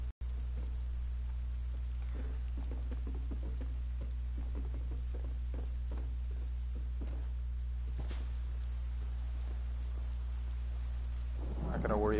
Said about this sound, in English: I really like when it rains in the game.